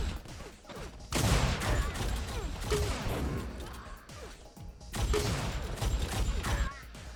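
Pistol gunfire in an Unreal Tournament deathmatch on the small map Rankin comes as two loud bursts of rapid cracking shots and impacts, separated by a quieter stretch of clattering game action.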